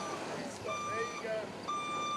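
A truck's reversing alarm beeps twice in steady high tones on a muddy construction site, heard at a distance under a noisy rumble of engines and faint voices.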